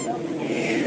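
A goose gives one short, nasal honk close by, heard alone in a brief burst.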